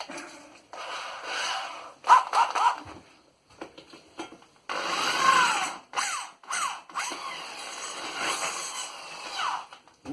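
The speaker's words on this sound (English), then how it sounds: "that little bit just cut that hole" Intermittent bursts of a drill with a hole cutter running and grinding through material, with short pauses between passes and a longer steady cutting stretch near the middle.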